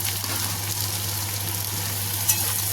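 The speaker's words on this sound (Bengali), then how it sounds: "পেঁয়াজটা এর সাথে ভেজে নেবো।" Sliced onions and okra fry together in a pan, giving a loud, constant sizzle under a low hum, with one brief clink of a spoon near the end; nobody speaks.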